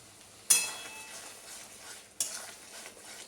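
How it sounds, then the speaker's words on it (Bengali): A spoon stirring spice masala frying in a pan for a potato chicken kosha, with two sharp scrapes followed by a soft steady sizzle, close and fairly quiet. "মশলাটা খুব ভালো করে কষে নিয়েছি"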